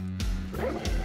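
Dogs bark in the video game Apotheon, several close, loud yips and woofs in quick bursts over game sounds.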